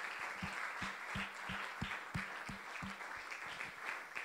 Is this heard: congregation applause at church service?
yes